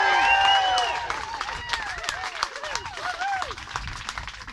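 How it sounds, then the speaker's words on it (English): Wedding ceremony guests cheering and whooping, with applause and overlapping excited voices from a crowd, loudest at the start and tapering into scattered shouts. "I want to hear your most enthusiastic cheer to show these two that you're backing them today"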